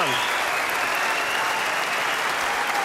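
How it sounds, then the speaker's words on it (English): A large snooker crowd at Alexandra Palace bursts into sustained, dense applause at the end of a Masters final, a loud, steady wash of clapping with faint voices mixed in. "this crowd at the Alexandra Palace erupting"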